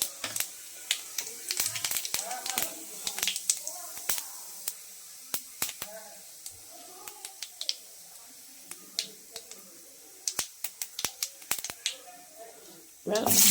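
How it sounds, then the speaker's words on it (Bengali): Cumin seeds sizzling as they hit hot oil in a pan while cooking a Bengali fish curry with flat beans and potatoes: sharp crackling pops and spits, dense and near, over a steady frying hiss, with no talk. "এইতেই আর একটু তেল দিয়ে দেবো জিরা ফোড়ন দিলাম"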